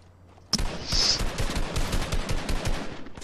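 Gunfire in the video game Fortnite starts suddenly after a brief quiet moment, then continues as a loud, rapid burst of automatic shots with a rattling, steady rhythm.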